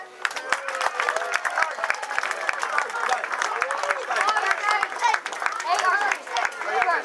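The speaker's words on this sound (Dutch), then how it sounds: "En dan wil ik een heel groot applaus van iedereen voor HRC" An audience at the Oystersbondsdag 2012 prize ceremony gives loud, sustained applause for the fourth-prize winner, HRC 1. Dense clapping runs throughout, mixed with cheers and raised voices.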